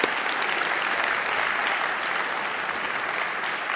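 A high school audience applauds the 2025 Wall of Fame inductees at a ceremony: steady, full-room clapping that holds at an even, loud level throughout without pause.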